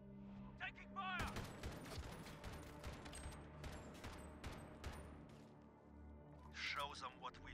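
Gunfire in Call of Duty Modern Warfare 2v2 Alpha, rapid bursts of shots cracking repeatedly over a few seconds, loud and close, with brief voice callouts around them.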